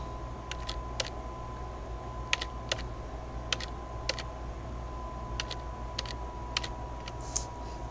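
Computer keyboard keys clicked in short, irregular bursts of light taps during a Super Metroid session, set over a steady low hum, close and fairly quiet with no talking.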